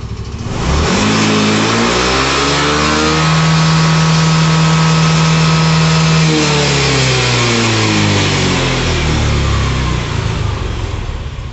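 Yamaha Xeon RC motorcycle engine revving up from idle, climbing and holding a high steady pitch for a few seconds, then falling back, loud and close with no talk.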